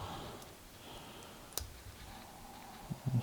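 Small metallic clicks from an Ace 50mm padlock dial being rotated, a few faint ticks spread across quiet moments with one sharper click near the middle and soft handling noises at the end.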